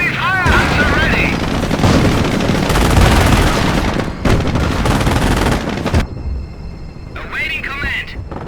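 Heavy gunfire in the WW2 strategy game Company of Heroes during Operation Market Garden: a loud, dense barrage of overlapping shots and booms, with radio-style unit voices talking over the fighting before it briefly drops away.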